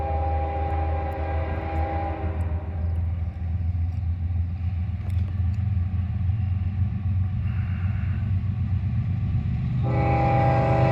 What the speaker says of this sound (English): we got CSX here in Greenwich heading from Willard.